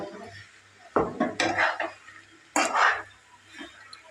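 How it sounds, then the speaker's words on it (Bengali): A pot lid comes off and a spoon stirs carrot halwa in a pot, giving a few separate bursts of close metallic scraping and clinking with quiet gaps between them. "এবার আমি ঢাকনাটা খুলে একটু নেড়ে চেড়ে দেবো"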